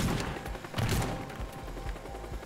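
Gunshots in the video game Teardown: rapid, rough bursts of gunfire with low thumps blend into a dense, noisy background.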